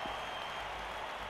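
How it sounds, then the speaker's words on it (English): A stadium crowd of fans in the fantasy football game Blood Bowl 3 roars and cheers in a dense, continuous wash of noise, faint and brief with no break. "here comes the cheering fans"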